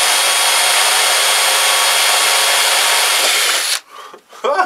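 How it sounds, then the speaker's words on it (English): A power drill boring a hole in wood, using a bit with a broken tip, a loud steady high whine for several seconds that stops abruptly, followed by brief handling noise. "Hopefully I drill it big enough I don't split anything with this screw."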